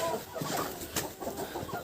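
Broody hens in a farmyard cluck softly in short, irregular bursts, close by, with a few sharper notes mixed in.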